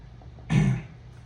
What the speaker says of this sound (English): I got trying to clear my throat